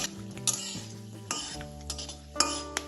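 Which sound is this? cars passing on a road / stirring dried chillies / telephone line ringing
stirring dried chillies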